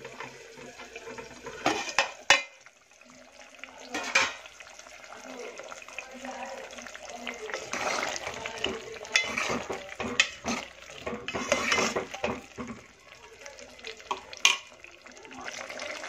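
Covered pot of matar pulao being opened in a home kitchen, with clinks of the lid and utensils, stirring and scraping, and some water sounds, under a person talking.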